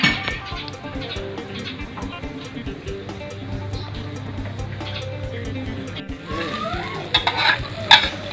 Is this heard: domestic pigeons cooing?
no